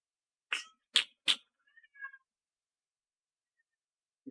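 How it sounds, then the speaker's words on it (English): A cat meows three times in quick succession, loud and close, followed by a few softer chirps and squeaks, then near silence. "Listen, Cat, you just gotta calm yourself down."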